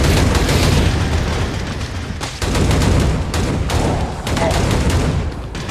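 Dense gunfire in the Hellbound shooter game, loud and continuous, with repeated sharp bursts and booms crowding the whole stretch, a few brief gaps, and speech mixed in.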